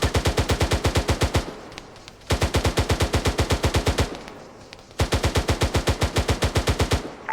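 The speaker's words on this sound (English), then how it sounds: "Just gonna cyclic fire." Video-game machine gun on sustained cyclic fire during an insurgency mission, three long rapid bursts of heavy, evenly spaced shots with brief pauses between them, loud and close.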